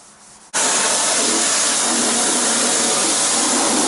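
Loud, steady wide-band spray and hiss begins abruptly after a short quiet start, consistent with washing down a mud-stained truck, scrubbing with a floor brush under the rush of water.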